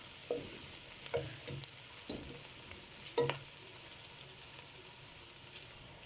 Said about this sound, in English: So I'm going to fry this until golden brown.